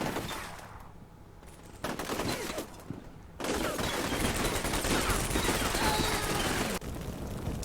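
Distant battlefield gunfire from the Combat Mission Shock Force 2 war game, scattered crackling shots building into a sustained dense rumble of small-arms fire, with no speech.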